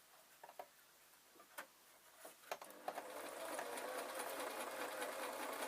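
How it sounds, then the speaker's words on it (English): Sewing machine stitching a curved hem on a travel pillow, a few faint isolated ticks and short starts at first, then a steady fast whirring run of stitches close by. "I am having to stop the sewing machine and then move on"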